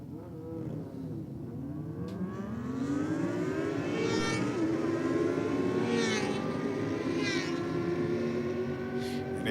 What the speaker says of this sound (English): Next pair of bikes are racing towards the finish line.